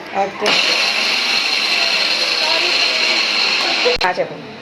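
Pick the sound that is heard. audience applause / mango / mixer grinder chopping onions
mixer grinder chopping onions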